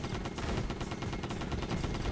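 Gunfire and explosions in the video game DEEEER Simulator, a dense rapid burst of shots and blasts throughout, loud and continuous.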